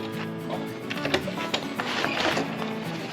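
A sewing machine with a high-speed motor stitches a gear bag in short bursts, a close mechanical whirring and rapid needle clatter that speeds up and pauses, with a faint voice in the background.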